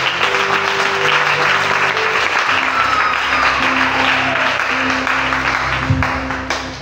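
A church congregation breaks into loud, sustained applause, a dense wash of clapping hands that holds steady for several seconds before easing slightly at the end.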